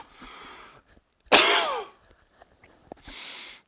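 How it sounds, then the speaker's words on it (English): A single harsh, explosive cough bursts out loudly in the middle, with softer breathy throat noises before and after it. "Oh my gosh, I just had to cough really badly."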